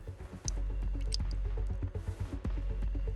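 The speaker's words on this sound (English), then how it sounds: "The sound of water dripping echoes throughout the empty set" Water drips in an empty set, with scattered soft drips and squishy taps echoing over a low steady background.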